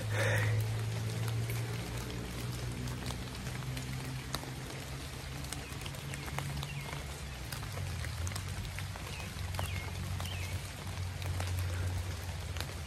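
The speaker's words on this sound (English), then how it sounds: "It's raining." Rain falls in a forest with a steady patter of drops, constant and moderately loud, and a low rumble underneath throughout.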